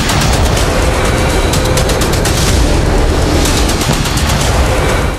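The Beirut port explosion, recorded from about 15 km away, comes through as a loud, sustained roaring rumble with sharp crackling bursts that swell midway, heavy and distorted from start to finish.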